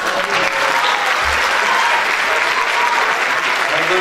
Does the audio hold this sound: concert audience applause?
yes